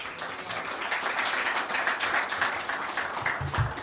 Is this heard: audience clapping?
yes